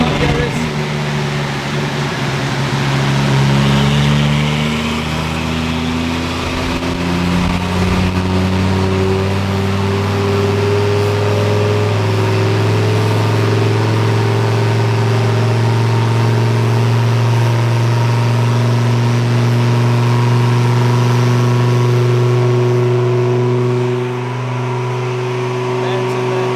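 A twin turbo Lamborghini being tuned holds a loud, sustained engine drone that climbs gradually in pitch as it revs, steady and close for the whole stretch.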